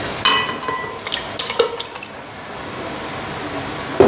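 Soy milk is poured onto six raw eggs in a container for homemade tofu, making close dripping and trickling splashes with a few clinking touches, followed by a soft steady liquid hiss.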